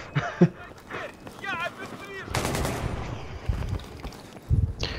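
Gunfire in the video game Battlefield 3, with bursts of shots and rough blasts mixed into the game audio, partly under a player's excited talk.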